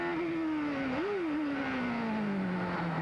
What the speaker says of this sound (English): Now listen to the heavy braking here.